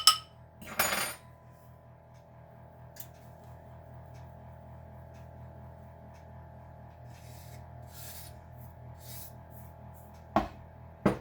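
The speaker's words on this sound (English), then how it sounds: "I'm going to give this a good stir." Seasoned pretzels stirred in a pan, with scraping and clinking of utensil against the pan in a few brief bursts at the start and end over a faint background hum.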